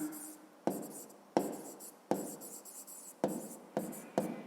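A pen writes by hand on paper during a maths exercise, a close, faint, scratchy stroking broken into about seven short strokes, each starting with a sharp tap and fading out.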